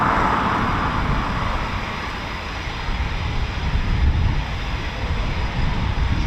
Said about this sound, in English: So that was quite nice to see the QRA takeoff